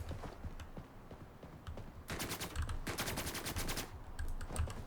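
Rapid bursts of MP5 submachine gun fire in the shooter game BRM5, loud and close, with dense clattering shots in several strings and brief pauses between them.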